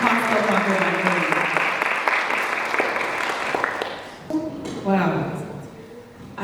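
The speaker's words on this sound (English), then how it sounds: "But can we give a big round of applause for this Pastor Margaret Macaulay?" Audience applause at a book launch panel for a pastor, a few seconds of crowd clapping that fades away, followed by a voice speaking.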